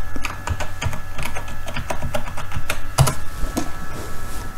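A Facebook password is typed on a computer keyboard: a steady stream of close, crisp key clicks with a faint hum in the background and no talking.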